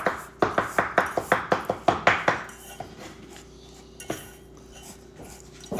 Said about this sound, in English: I'm chopping up my garlic.